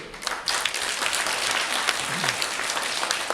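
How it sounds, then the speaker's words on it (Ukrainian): Audience applause at a charity concert, steady dense clapping from a crowd lasting the full few seconds, fairly close and even in loudness. "Ще раз вам прекрасні оплески."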